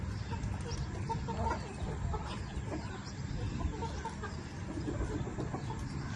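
A rooster and hens cluck continuously in a family farmyard, several birds close by with overlapping calls against outdoor background noise, and no clear talk.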